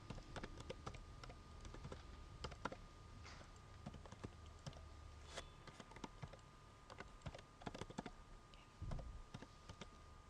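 Rapid clicks of typing on a computer keyboard as a command is entered during a Linux software installation, irregular bursts of keystrokes, quiet and close with no talking.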